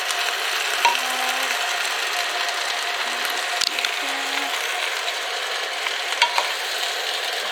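Peas and rice are stirred in a pan, a soft scraping and clinking of a utensil with a few louder knocks against the pan over a quiet, steady background, without any speech.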